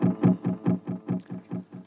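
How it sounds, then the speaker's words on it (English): Electric guitar run through the turbo overdrive model of a BOSS GX700 processor plays a tight, distorted chugging riff, about nine evenly spaced palm-muted hits with short gaps between them, loud and alone. "this is a turbo overdrive"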